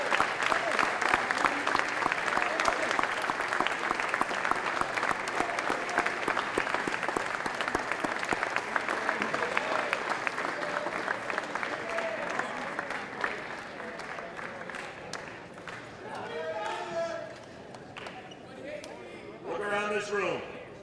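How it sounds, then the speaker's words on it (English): A banquet hall audience at a high school sports banquet gives sustained applause for the coaches, broad crowd clapping that gradually thins before a voice speaks over the fading claps. "Can we all take the time now to stand and acknowledge our coaches with a round of applause"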